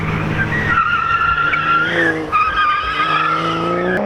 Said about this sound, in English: So here's the Supra coming now.